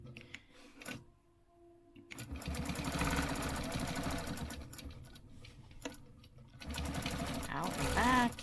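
A sewing machine stitching in close, loud mechanical bursts, a fast rattling whir that starts after a quiet pause, stops briefly, then resumes, with a voice talking over the start.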